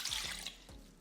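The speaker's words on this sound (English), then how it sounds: "All right, so you're gonna add your water" Water pours into a mixing bowl with salt, olive oil, brown sugar and yeast for bread dough, giving a short, close, bright splashing trickle.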